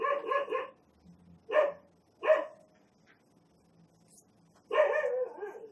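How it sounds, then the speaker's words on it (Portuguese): A dog barks nearby in short separated bursts, a quick double bark, two single barks, then a longer run, with quiet gaps between. "Cachorro agora começou a latir"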